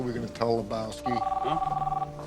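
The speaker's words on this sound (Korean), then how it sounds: "전화기는 계속 울리지만 망연자실한 듀드는 전화를 받지 않습니다" A telephone rings repeatedly in a film scene while the stunned man lets it go unanswered, its trilling bursts layered under talk and music.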